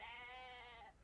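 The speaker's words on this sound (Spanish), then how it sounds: "Alimentando ovejitas." A single sheep on a farm lets out one clear, drawn-out bleat close by, lasting most of a second before it cuts off.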